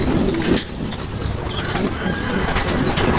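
A pigeon flutters its wings in a brief burst near the start, then soft cooing and rustling continue close by, indoors.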